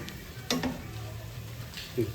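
Hot oil sizzles steadily in a pan as semolina chips fry, with a couple of soft utensil clinks over the frying noise.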